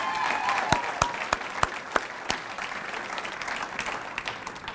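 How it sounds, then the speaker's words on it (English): Steady audience applause fills a hall of fame ceremony hall, with scattered sharper individual claps standing out from the even wash of clapping throughout. "Can we give him another round of applause, please?"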